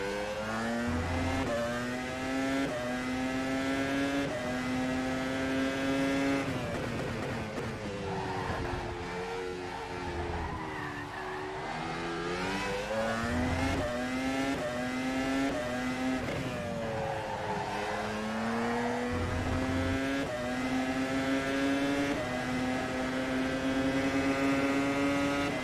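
Formula 1 car engine lapping Zandvoort in the rFactor racing sim, a steady high-pitched whine that climbs through gears and dips on downshifts. It runs continuously and close for the whole stretch with no talk.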